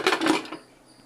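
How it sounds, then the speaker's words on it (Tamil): A short metallic clatter as a plate is set down over a pot, with a faint ringing tail afterward. "கொதிக்கட்டும் தட்டை போட்டு மூடி வச்சிடலாம்"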